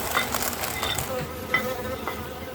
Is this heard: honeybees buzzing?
yes